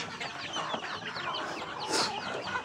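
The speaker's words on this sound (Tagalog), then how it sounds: "Ang daming manok." Many chickens on a farm in a rural province cluck continuously in a dense, close chorus, with scattered bird chirps layered over the steady noise and no speech.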